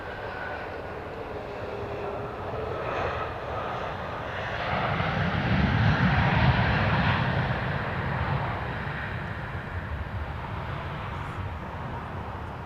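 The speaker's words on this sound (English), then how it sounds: "It is a MAX 8, Flight 2143, arriving from Baltimore Washington International Airport." A Boeing 737 MAX 8 jet arriving at Dallas Love Field produces a steady, broad engine roar that swells as it passes nearest midway through, then slowly fades while still clearly audible.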